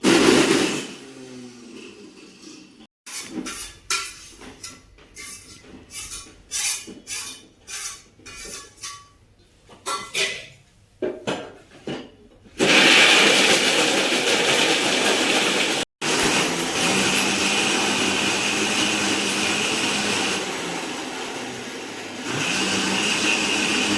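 A mixer grinder grinds leftover coarse dry fruit pieces, first in short, sharp pulses with rattling bits, then in a long continuous whirring run close by.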